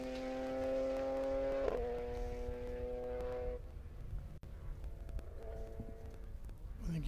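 A race car on Hankook tires sweeps past on a circuit, its engine note a steady rising-and-falling harmonic whine that Doppler-drops mid-pass, then a second, fainter car follows later amid ambient track noise.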